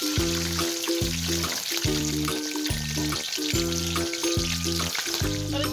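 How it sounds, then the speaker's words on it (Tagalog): Pieces of kare kare meat deep fry in hot oil, a loud, dense crackling sizzle running steadily throughout alongside a rhythmic, repeating low hum. "sa puntong ito magprito na tayo"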